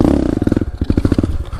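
Pit bike engine pulling a wheelie, a close, loud buzzing with a rapid pulsing beat that wavers as the throttle is worked, heard alone.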